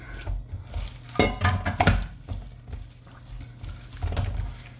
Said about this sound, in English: make sure that you mix everything up really well